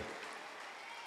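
Quick burst of audience applause for a boys' dance performance at an academy cultural show, dense even clapping filling the brief moment at low level.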